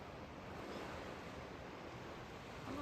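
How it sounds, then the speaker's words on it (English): Ocean waves wash along the shore at South Whidbey State Park, a soft continuous surf roar heard from a distance, faint and steady with some wind noise and no speech. "You can hear the waves."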